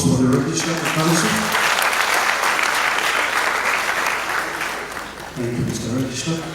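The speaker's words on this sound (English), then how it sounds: "Another round of applause for the Registrar of Council." Sustained audience applause for the Registrar of Council at a West African Examinations Council gathering in Freetown, steady and fairly loud, with a voice speaking over the start and end.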